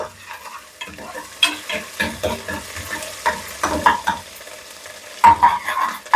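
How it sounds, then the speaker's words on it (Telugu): Ginger paste frying in hot oil in a pan for egg curry, stirred with a utensil: a loud, close sizzle broken by scraping strokes and short bursts of crackle, with no talking. "అల్లం కొద్దిగా ఎగుతూ ఉంటుంది కదండి"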